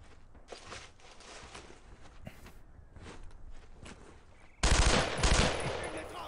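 World War II gunfire in Brothers in Arms: Road to Hill 30, with a few scattered distant shots and footsteps before a sudden loud close burst of rapid automatic fire near the end.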